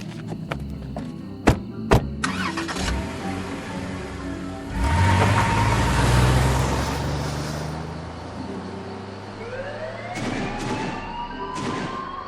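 A car starts and pulls away in a radio drama, with a rising engine and doors thudding, then a swelling siren and whistling tones as the vehicle heads through an open gate onto a guarded field.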